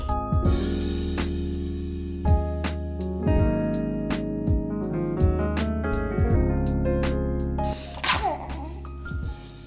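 A short, sharp sneeze bursts out near the end over steady background music with a plucked, rhythmic pattern.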